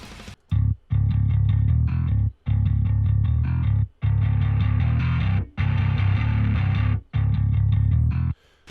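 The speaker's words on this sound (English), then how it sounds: "a blend from like a clean channel and a distortion channel" Heavily distorted bass guitar riffs through a JST Bassforge Rex Brown plugin, blending clean and distortion channels, played in short bursts separated by brief silent gaps, loud and thick with a gritty, saturated tone.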